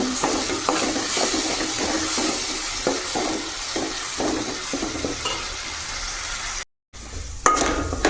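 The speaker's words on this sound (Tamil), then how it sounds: "இதில் வந்து கொஞ்சமாக மஞ்சள்தூள் அவ்வளோதான் இப்போ தக்காளி நல்லா வணங்கட்டும்" A spoon stirs tomatoes with turmeric sautéing in a pan, steady sizzling and frying under repeated scraping and clinking strokes, with a brief cut near the end.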